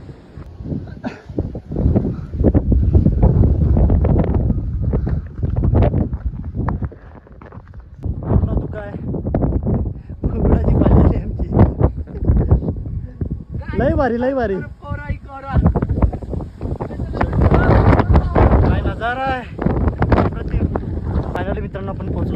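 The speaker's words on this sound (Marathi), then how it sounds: "खूप भयंकर जंगल आहे पण ट्रेकला खूप मजा येते या भयंकर वारा आहे भयंकर" Strong monsoon gusts on the foggy, forested Manikgad fort trek near Panvel buffet the microphone in loud, rumbling bursts throughout, while people talk and exclaim over the roar.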